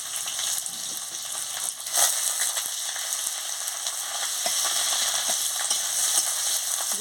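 Chopped onion, green chili and ginger paste fry in a pan with a steady, close sizzle, broken by occasional scraping stirs and a brief louder burst near the start.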